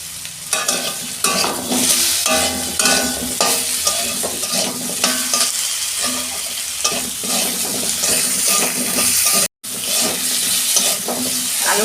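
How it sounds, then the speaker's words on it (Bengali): Potatoes frying in oil in a pan for a Bengali cauliflower-potato roast, with a steady loud sizzle and frequent stirring scrapes throughout, a brief cut near the end, no voices. "আলুটা ভাজা হয়ে গেছে তুলে দিচ্ছি"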